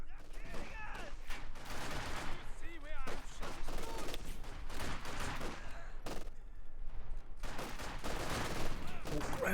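An MG42 team fires in a World War II strategy video game. Rapid bursts of machine-gun and rifle fire crackle steadily at a moderate distance, with a voice talking over the battle.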